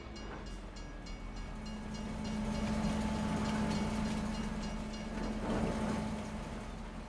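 A train rolls steadily past a railroad crossing in Farming Simulator 25, a broad continuous rumble with clattering wheel noise that swells slightly in the middle, with no voices.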